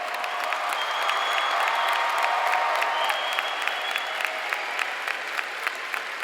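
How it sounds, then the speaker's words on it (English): An audience at a high school graduation ceremony applauds, a dense, steady wash of clapping in a large hall with a few sharper individual claps, fading slightly toward the end. "Let us celebrate all our graduates with a round of applause"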